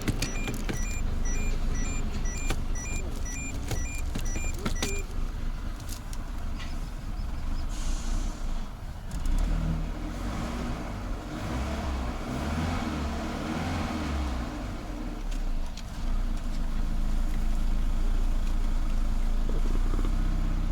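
A Peugeot 407 engine idles steadily during an automatic transmission fluid change on a ZF 4HP20 gearbox, a continuous close mechanical hum with the fluid pump running and occasional clicks and handling noises.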